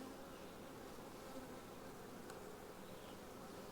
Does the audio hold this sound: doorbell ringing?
no